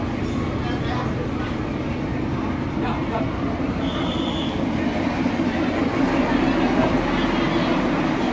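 Steady loud rumble and clatter inside a moving train car with benches in Da Lat, Vietnam, a constant roar with faint voices underneath.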